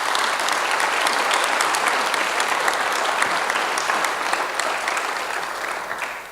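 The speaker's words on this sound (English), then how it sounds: "a warm round of applause for this panel and also for all the speakers today" A conference audience gives a warm round of applause for a business panel on Asia and Pacific, a loud, dense and sustained clapping that tapers slightly toward the end.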